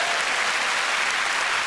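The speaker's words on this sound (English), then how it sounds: "Give her a cheer." A television game show studio audience gives steady, dense applause for a contestant, loud and continuous throughout with no gaps.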